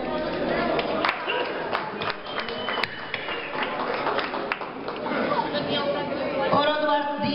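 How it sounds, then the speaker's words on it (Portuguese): Crowd applause for Daniel Moreira at the annual party of the Alpiarça municipal firefighters: steady, dense clapping mixed with loud chatter and voices filling the hall throughout. "Uma salva de palmas para o Daniel Moreira"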